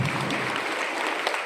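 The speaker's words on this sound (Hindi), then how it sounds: "जोरदार ताली बजाते हैं एक बार।" Dense applause from a crowd at a public foundation-stone ceremony, steady clapping throughout the short stretch with no gaps and no voices.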